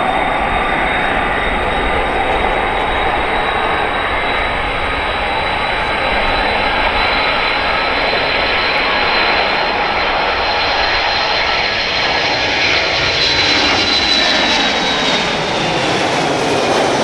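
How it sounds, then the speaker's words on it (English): A KC-135 jet tanker starts its maximum-effort takeoff roll at an airshow in London. A loud, steady roar fills the whole clip, with a rising turbine whine building toward the end. "from the right, the KC-135 on the roll."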